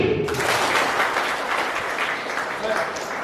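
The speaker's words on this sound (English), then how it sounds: "On the count of 3, you have to clap." An audience at The Millennium School claps together on a count of three, a dense burst of applause that fades slightly over a few seconds.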